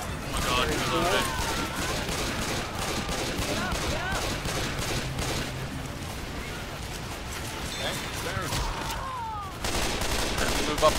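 Rapid gunfire from the video game Left 4 Dead 2 crackles in dense bursts throughout, mixed with game effects and excited player voices talking over it.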